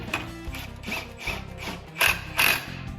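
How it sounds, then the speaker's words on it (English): An impact wrench lightly snugging a bolt on a Duraclutch clutch kit for a Polaris RZR 900, giving several short rattling, ratcheting bursts up close, with no talking. "Then we're going to snug it up with an impact lightly."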